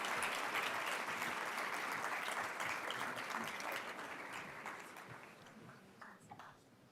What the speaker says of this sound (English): Let's applaud these finance scholars.